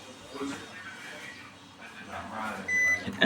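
Short electronic beeps sound from the control panel of a Hisense 10 kg inverter-motor washing machine near the end, following a person talking.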